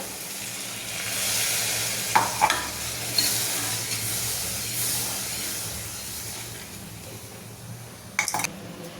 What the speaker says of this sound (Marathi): आता आपण त्याच्यात पाणी टाकून घेऊ।